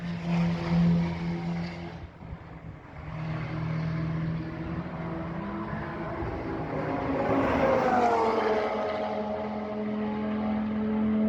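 Race cars run on the Slovakiaring circuit, their engines droning at a moderate distance and swelling as one passes nearer, with a constant hum and no talk.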